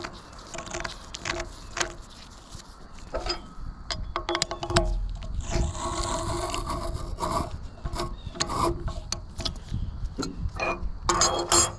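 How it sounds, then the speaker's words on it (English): A breaker bar turns a rust-seized bolt on a heavy metal table, giving close, fairly loud grinding and creaking scrapes broken by sharp clicks and ratchet-like ticks, with no talking. "I'm using a breaker bar here to turn it."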